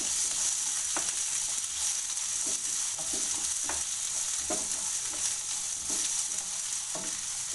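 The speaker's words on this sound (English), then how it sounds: "I have chopped the onions into slices and now I'm going to add it into the pan." Sliced onions fry in a pan with a constant close sizzle, broken by a few soft stirring clicks and scrapes, no speech.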